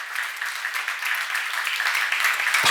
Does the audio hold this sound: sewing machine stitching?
no